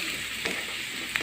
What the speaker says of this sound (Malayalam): സവോള ഒന്ന് ഗോൾഡൻ കളറാവുമ്പോൾ വരെ ഇളക്കിക്കൊണ്ടിരിക്കുക